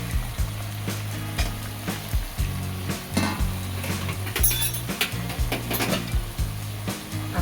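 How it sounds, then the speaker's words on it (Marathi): Cut pointed gourd (parwal) frying in a pan with salt, a steady sizzle with repeated stirring scrapes and light clinks of a utensil against the pan, close and continuous throughout. "आपण अशा पद्धतीने परवर कापून घेतलेले ते टाकून घेतो."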